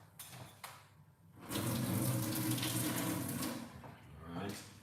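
Tap water runs into a cooking pot for an herbal tea remedy, a steady rushing splash lasting a few seconds after some brief clatter, then easing off, heard close up.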